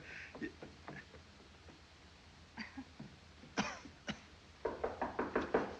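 Knocking on a door in a 1938 film scene: faint, scattered knocks at first, then a clear run of six quick raps at the end, set against a soft room hiss.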